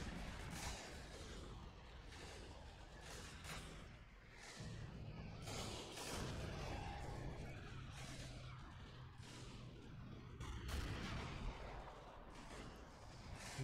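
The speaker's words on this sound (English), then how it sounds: "Move my mortars over there." Mortar artillery fire from the World War II video game Assault Squad 2, set in a 1945 Berlin industrial sector, as a dense, continuous wash of distant booms and crackling gunfire with heavier thumps mixed in.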